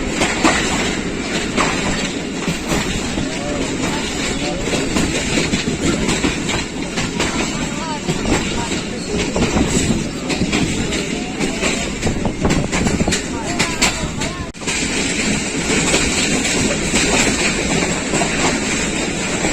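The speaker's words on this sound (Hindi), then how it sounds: "तेजो वाली क्रॉस कर रही है nine up Allama Iqbal express" Pakistan Railways' 9 Up Allama Iqbal Express passenger train runs on rails between Lahore and Sialkot near the Pakistan–India border, heard from on board as a loud, continuous rumble with clickety-clack wheel beats and a voice speaking over it.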